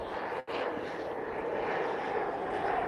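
An airplane passing overhead while walking on an outdoor trail, a steady broad engine roar filling the background throughout, moderately loud and unbroken apart from a brief dropout.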